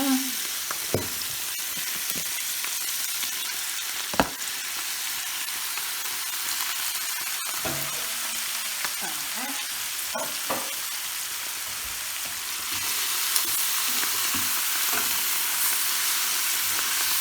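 Garlic and broccoli rabe sizzle and fry in a pan, with occasional scrapes and clatters as the greens are stirred and tossed; a steady, close frying hiss runs throughout with no talking.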